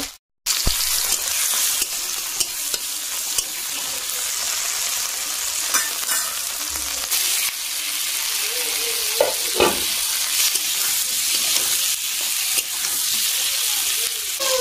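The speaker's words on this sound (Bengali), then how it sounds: "আলুটা কষা হচ্ছে" Loud, continuous sizzling of potatoes sautéing in a pan, with scattered scraping and stirring sounds throughout.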